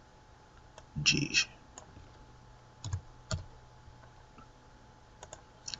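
A few sharp mouse clicks, a tight double click and then two single ones, while working in Adobe Animate CC, close and fairly quiet, with a brief spoken word between them.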